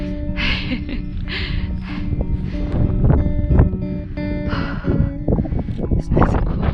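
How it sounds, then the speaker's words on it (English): Wind on an open hiking trail along the Cumbria Way, close, gusty rumble and buffeting against the microphone with breathy bursts and rustling, loud and uneven throughout. "Oh, this wind is cooling me down nicely."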